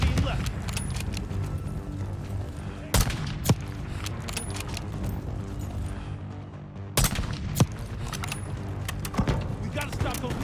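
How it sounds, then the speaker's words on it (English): Mortar fire during a Call of Duty Black Ops 6 battle: two heavy booming blasts several seconds apart, with sharper impacts after each, over a constant layer of game music and battle din. "Got mortar fire."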